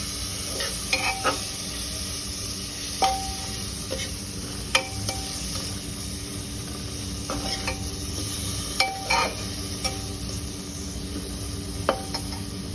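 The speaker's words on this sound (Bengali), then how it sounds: "একটু ভেজে নিতে হবে, মশলাটা একটু কষায় নেব।" Turmeric and chili powder frying in a pan for khichuri, a steady close sizzle broken by repeated metallic scrapes and clinks of a spoon stirring against the pan, with no voices.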